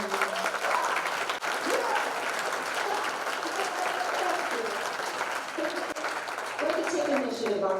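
At the Give Her Wings Gala 2022, a crowd applauds in a sustained wash of clapping, while a voice speaks over it near the end.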